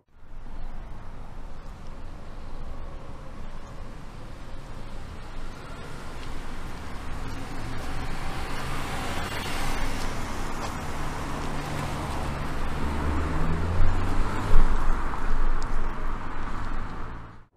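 A Honda Civic VTEC engine revs hard toward very high RPM, a dense steady roar that builds gradually in loudness over many seconds with no talking.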